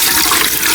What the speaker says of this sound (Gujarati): આમાં છે ને પાણી નાખી દઉં।